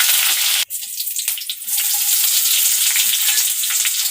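Dried red chillies and curry leaves sizzling in hot oil for an aloo fry, a loud steady hiss with a sharp crackling burst as they hit the pan, then continuous bright frying noise.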